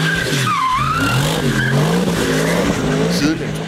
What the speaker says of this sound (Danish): Siden introduktionen i 2004 er Carrera GT blevet kendt for tre ting. 1. En fuldstændig vanvittig motorlyd.